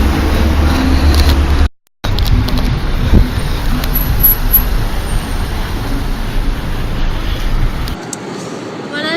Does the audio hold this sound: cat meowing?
no